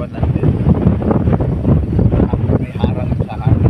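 Strong wind at a mountain campsite on Mt. Gulugod Baboy, Mabini, Batangas, buffets the microphone in a steady, loud roar, with gusty low rumbling throughout and no clear voices.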